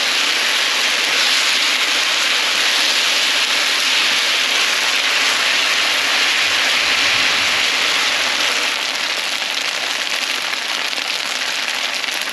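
Potato lo mein noodles with tofu and vegetables sizzling in a pan on high heat, a loud, steady hissing crackle that holds constant throughout without pause.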